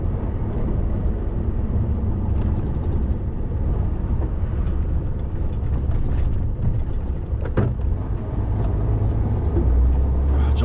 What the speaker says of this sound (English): a car's coming from there as well